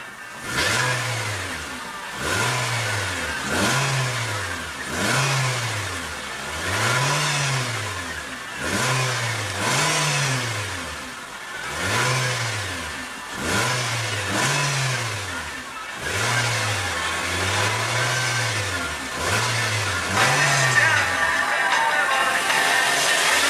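The 1.8 liter 4-cylinder engine of a 2015 Nissan Sentra revs again and again, each throttle blip rising and falling in a steady rhythm of about a dozen rises, loud and close, with no talking.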